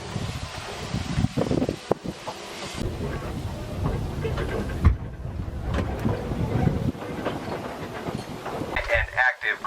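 A Cripple Creek and Victor narrow gauge train backing up toward a gold mine stop gives a low rumble with clanks and creaks, heavily buffeted by wind noise on the microphone.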